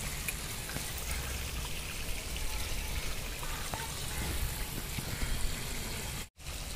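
Water gushes from a garden hose into a backyard wildlife pond, a close, continuous splashing and trickling rush that holds steady, with a brief sharp dropout near the end.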